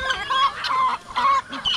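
Several chickens, including roosters, cluck in short bursts close by, with high calls repeating in three or four clustered phrases over a faint outdoor background.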